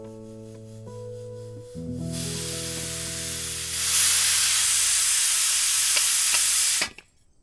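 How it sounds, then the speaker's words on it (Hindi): Steam hisses out loudly in a steady broadband rush for about five seconds, swelling midway, after a soft musical passage, then cuts off abruptly. "शुक्र है भाप निकल गई, फटा नहीं।"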